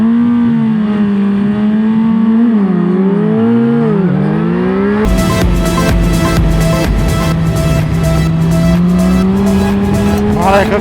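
A loud motorcycle engine drones with a rising and falling pitch, then breaks into a harsh, pulsing screech of the rear tire sliding on pavement.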